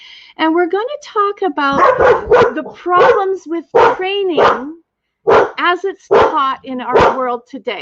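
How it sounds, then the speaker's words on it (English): A dog barks in the background in short, scattered yaps, largely buried beneath a person talking close and loud throughout. "That's my dog barking in the background."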